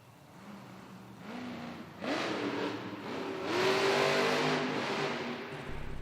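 A monster truck engine revs at a Monster Jam arena event in Hampton, Virginia, rising in pitch through several climbing pulls, with a loud roar over a wash of crowd and arena noise.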